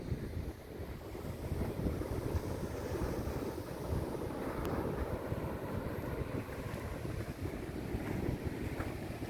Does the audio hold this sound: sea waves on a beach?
yes